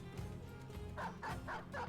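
Dogs barking in the Battle Brothers video game, a few quick, fairly faint barks and yips in close succession toward the end, alone without talk.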